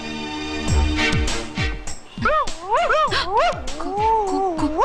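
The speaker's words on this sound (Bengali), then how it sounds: "কুকুরের আওয়াজ না" A dog gives several short, close barks and yips that turn into a run of high, wavering whimpers and whines.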